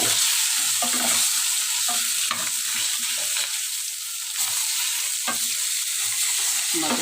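Red amaranth greens tossed into a pan of rohu fish pieces, stirred with a steady hiss of frying oil and repeated scraping strokes of a spatula, close and continuous with no talk.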